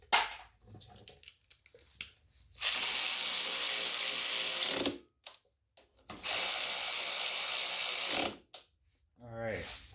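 A hand ratchet tightens bolts on the carburetor of a Poland Pro snowblower, giving two long bursts of rapid, bright clicking about two seconds each, separated by quieter handling noises close by.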